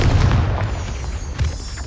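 A Confringo fire spell in Hogwarts Legacy bursts with a loud, deep boom that rumbles and fades, then a second, smaller blast follows about a second later.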